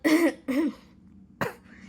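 Three close, harsh coughs, two in quick succession and a third after a short pause.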